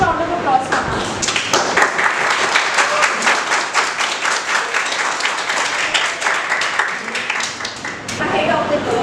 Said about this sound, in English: Please pay a huge round of applause for us.